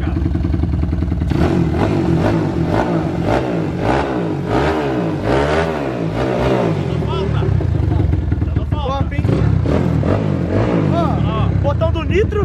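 A Honda Fan motorcycle engine fires up and is revved hard several times, loud and close, the rising and falling revs continuing as people talk over it.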